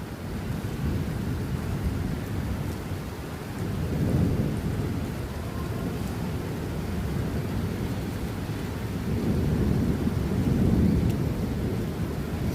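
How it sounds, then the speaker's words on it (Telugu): A thunderstorm with heavy rain gives a dense, constant downpour, and two long, deep rumbles of thunder swell and fade, one in the middle and one near the end; no one talks. "చాలా ఉరుముతుంది. మేఘాల యుద్ధం జరుగుతున్నట్టుగా ఉంది పైన సౌండ్లు."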